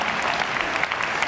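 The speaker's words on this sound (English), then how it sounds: "give Ryan a big round of applause" An audience at a live comedy and stage hypnosis show claps for a volunteer, a dense, steady burst of applause that fills the room briefly.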